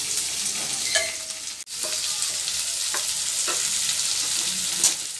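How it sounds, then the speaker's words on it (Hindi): Vegetables for white sauce pasta fry in a pan with a steady bright sizzle, broken by a few clinking, scraping stirs of a spoon near the start and end. "सब्जी हमारी फ्राई हो गई है"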